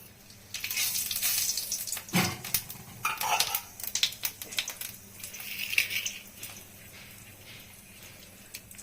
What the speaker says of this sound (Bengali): তেল পুরা গরম হয়ে গেছে। এখন আমি একটু জিরা ফোড়ন দিব।